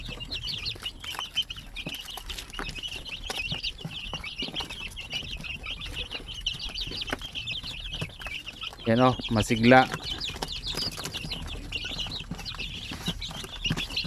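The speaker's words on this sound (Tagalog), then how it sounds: "Kung sino po yung gusto na mag-alaga po ng mga Chamois, actually available ito" Shamo aseel chicks give a continuous high, rapid peeping close by, with a short louder burst of clucking and fluttering midway, while someone speaks briefly over them.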